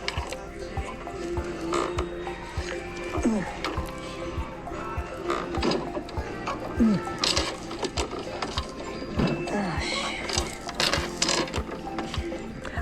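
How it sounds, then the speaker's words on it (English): A sewing machine stitches quilt binding near a folded edge, its needle clattering in fast, even bursts that stop and start, close and clear under occasional speech. "I am sewing about 1/8 of an inch from the edge of that fold."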